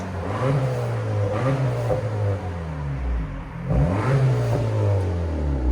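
A 2023 Acura Integra A-Spec 1.5L turbo with a resonator delete revs repeatedly, its exhaust rising and falling in deep, smooth pulls, loud and close.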